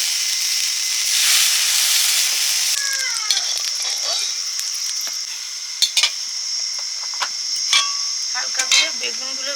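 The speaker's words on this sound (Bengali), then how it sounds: "ভেজে নিচ্ছি" Steady, bright sizzle of fish roe fritters frying in hot oil, with scattered sharp crackles and pops and occasional light scraping of a utensil.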